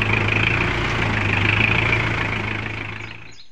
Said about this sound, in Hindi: हम फाइनली दोस्तों पहुँच चुके हैं हमारा ट्रैक्टर स्प्रे पंप लेकर इधर अरुण भाई के खेत में